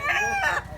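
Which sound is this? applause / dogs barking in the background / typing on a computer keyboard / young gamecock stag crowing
young gamecock stag crowing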